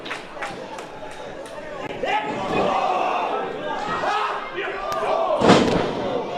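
A wrestling crowd at a Glory Pro match roars and shouts behind a wrestler, a swelling, rising crowd noise with a few thuds from the ring, while a commentator talks over it.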